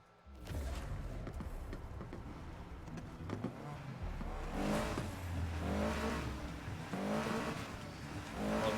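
A race car engine in the video game Need for Speed Heat revs hard and accelerates, its pitch climbing in repeated rising sweeps, loud and steady with no voices.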